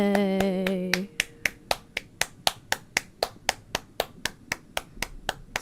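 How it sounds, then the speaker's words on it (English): Steady, evenly spaced clapping sound effect from a video game, about twenty crisp claps in a regular rhythm, loud and close, following a short musical jingle at the start. "Clap, clap, clap, clap, clap."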